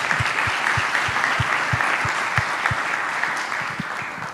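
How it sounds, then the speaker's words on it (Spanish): Audience at a government conference event gives steady, moderately loud applause for three experts, dense clapping continuing throughout without speech. "un aplauso para ellos, por favor."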